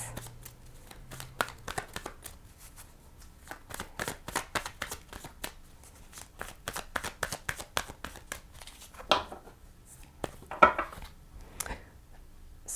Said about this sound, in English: So just want to pull a few more cards to get another layer of these energies